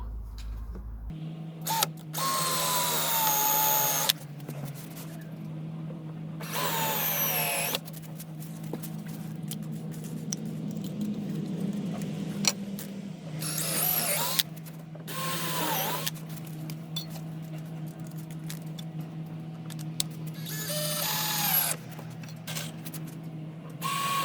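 A power drill bores holes in wood for a homemade wooden sandbox, with several separate bursts of high whirring and grinding over a steady low mechanical hum, close and loud, without talk.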